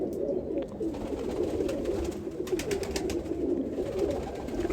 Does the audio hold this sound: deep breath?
no